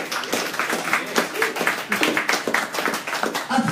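An audience claps in a bar during a book discussion event, a modest round of applause with close, uneven hand claps lasting a few seconds, with faint voices mixed in.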